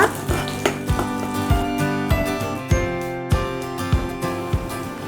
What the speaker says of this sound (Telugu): ఆయిల్ వేడెక్కిన దాంట్లో మనం సన్నగా తరిగి పెట్టుకున్న వెల్లుల్లి రెమ్మలు ఉన్నాయి కదా, అవి వేసుకోండి.